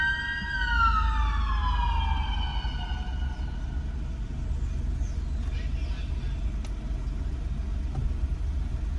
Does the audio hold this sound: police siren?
yes